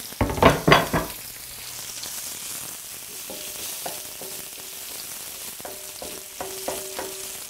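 Two red chilies hit a hot pan for a paleo pork and pineapple stir fry, setting off a brief loud burst of sizzling that settles into a quieter, steady fry with small crackles and faint tonal ringing.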